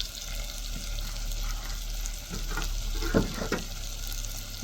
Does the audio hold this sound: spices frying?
yes